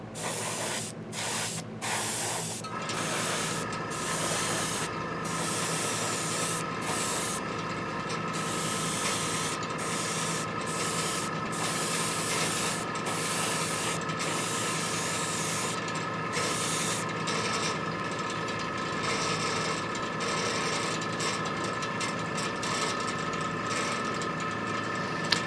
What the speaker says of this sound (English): So we're going to do the majority of the colors on this model with an airbrush.